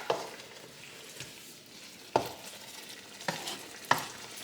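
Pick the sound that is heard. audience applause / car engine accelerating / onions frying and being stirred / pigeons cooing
onions frying and being stirred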